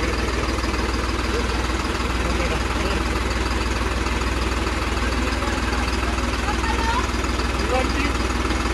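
A New Holland 3630 Special Edition tractor engine idles steadily with a low, continuous rumble and faint rattling vibration, unchanging throughout.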